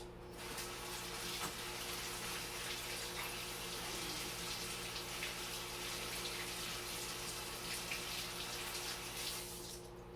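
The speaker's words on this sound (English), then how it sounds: "I'm just going to rinse my hands" Tap water runs steadily into a sink while hands are rinsed under it, a continuous close splashing flow that stops near the end.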